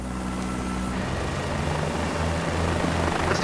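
A helicopter hovers in Microsoft Flight Simulator 2024, giving a steady, loud rotor and engine drone with a low throbbing hum that continues unbroken throughout.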